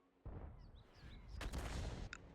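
A video game tank gun fires with a sharp blast and rumbling boom over a steady low mechanical drone, followed by a brief metallic ring.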